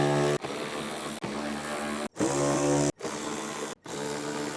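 A power tool loosens the front bumper bolts on a 2014-2024 Toyota 4Runner, sounding as five loud buzzing whirs of similar length, each cut off by a brief gap, close up with no voices.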